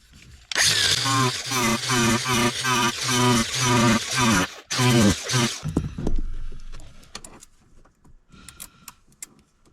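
A power tool strips paint on a 2001 Jeep Cherokee XJ during trailer wiring work. It grinds loudly and close in a pulsing rhythm for about five seconds, then stops and leaves only faint handling noises.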